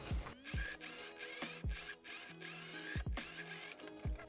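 A sewing machine runs a final pass over the side seam of a dirndl blouse at 5 millimetres, whirring steadily up close with rhythmic mechanical thumps and short pauses as it stitches.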